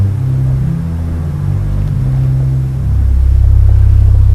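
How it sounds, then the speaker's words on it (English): Open diapason in the pedal of a pipe organ, its great big pipes giving a deep, loud, sustained low rumble with held tones that drop lower partway through, heard alone. "the great big pipes are an open diapason in the pedal."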